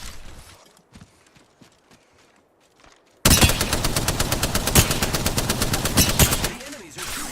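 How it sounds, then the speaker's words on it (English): Enemy gunfire in the Apex Legends video game erupts as rapid automatic bursts after a few quiet seconds of scattered footsteps and clicks, then sustains as loud, close rattling fire. "The enemies are shooting at me"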